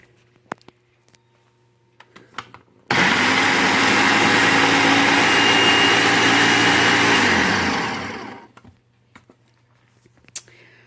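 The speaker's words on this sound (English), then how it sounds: "It's going to be kind of loud, I'm sorry." A blender grinding cashews roars loudly for about five seconds with a steady grinding whir, then spins down and stops, leaving quiet room noise.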